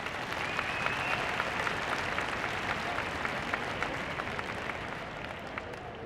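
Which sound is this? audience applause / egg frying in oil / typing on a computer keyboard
audience applause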